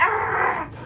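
A dog gives one short, rough growling bark, close and fairly loud, that fades out within a second.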